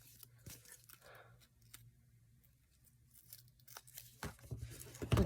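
Scissors cut pieces off a folded paper embellishment: quiet snips and rustles of paper, growing busier and louder toward the end, close by with no voices.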